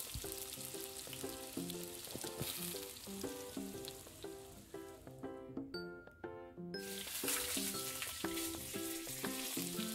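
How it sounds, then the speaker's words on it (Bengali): Fried potatoes and cauliflower being sautéed in a masala in a pan, giving a steady broadband sizzle with stirring scrapes, playing under a loud, continuous melodic music track throughout. "মশলাটা কিছুক্ষণ কষানোর পর ভেজে রাখা আলু ও ফুলকপি দিয়ে আরও কিছু সময় ধরে সবজিটাকে কষিয়ে নেব।"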